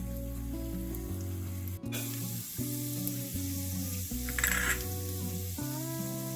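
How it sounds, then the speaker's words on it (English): Mustard seeds, cashews and raisins sizzling and crackling in hot oil, a steady frying hiss under a loud background of sustained tonal music. "Once my oil is heated up, I'm going to add in the mustard seeds"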